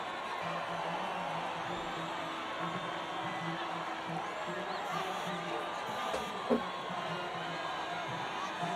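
Crowd noise from spectators at a Formula 1 race in a video game, a steady, loud wash of cheering and whooping that holds constant throughout.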